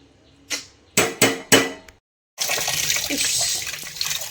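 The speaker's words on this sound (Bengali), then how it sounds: "গরম জলটা বরঞ্চ ফেলে দিই নাহলে ভাতটা নষ্ট হয়ে যাবে" Hot water poured off from a pot of cooking rice: three sharp splashing gushes, a short pause, then a steady rushing pour of water that runs on to the end.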